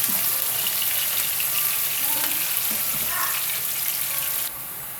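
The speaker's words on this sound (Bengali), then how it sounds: "তো পেঁয়াজটাকে আমি সামান্য একটু ব্রাউন কালার করব" Onions frying in oil in a pan while cooking fish egg curry, a steady dense sizzle with faint stirring clinks, heard alone and dropping slightly at the end.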